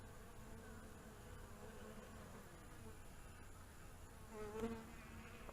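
Bees swarming and invading a top bar hive, a dense steady drone of many insects close by, swelling briefly louder near the end.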